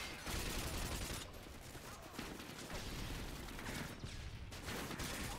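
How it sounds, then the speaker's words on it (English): First-person shooter gunfire with an AK-47, steady loud bursts of rapid shots running almost unbroken through the clip, dipping briefly then resuming. "you're just shooting into the fences, brother"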